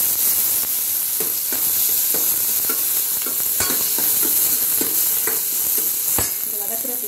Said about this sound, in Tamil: நெக்ஸ்ட் நம்ம கட் பண்ணி வச்சுருக்கக்கூடிய தக்காளியை போட்டு ஆட் பண்ணிக்கலாம்.